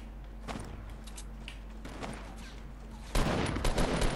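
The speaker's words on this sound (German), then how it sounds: "Ich werf die Granaten." Thrown grenades go off in the video game Fortnite among scattered game-combat sounds: a few soft thumps and pops, then a sudden louder, denser burst of explosions near the end, with no voices.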